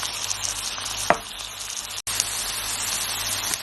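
Shallots and bell peppers sizzle steadily in olive oil in a pan for a chakchouka, a continuous close frying crackle with one sharp knock partway through and a brief cut before the sizzle resumes.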